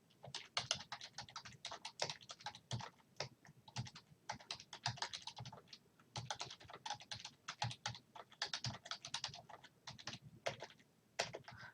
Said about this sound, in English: So I'm going to type in my competency.